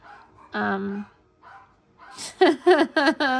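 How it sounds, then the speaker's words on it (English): A dog barks several times in quick succession, loud and close, after a longer whining bark and a couple of softer yelps. "There he goes barking again."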